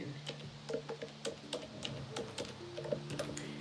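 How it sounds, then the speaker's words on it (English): Rapid, uneven clicking of keys being tapped with long nails, close up, over a faint low hum. "Typing with these fingernails."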